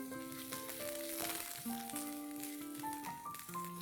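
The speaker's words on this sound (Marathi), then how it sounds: "हरभऱ्याची डाळ, छान फ्राय झालं ना की मग तिच्यामध्ये आपण टाकणार आहोत हिंग," Chana dal and urad dal sizzle in hot oil with asafoetida and curry leaves, a soft, steady frying crackle under a melodic backing tune.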